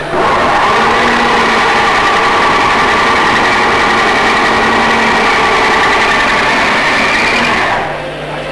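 A continuous whining drill motor runs steadily for several seconds, fairly close and loud, then winds down at the end.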